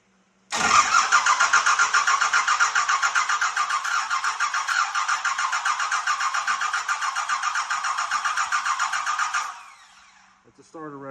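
A Cummins diesel swapped into an older Ford F350 cranks on its starter in one long, loud, steady run with a fast chugging rhythm, then stops, and a brief clatter follows.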